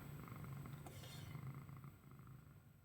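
A pet cat purrs steadily and softly at close range, a low continuous rumble running through the whole moment with no voices.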